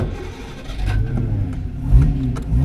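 A 1958 AC Aceca's engine cranks and catches, then idles with a low, uneven rumble and brief revs, fairly close with no talking.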